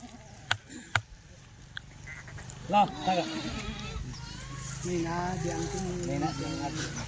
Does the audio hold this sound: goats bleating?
yes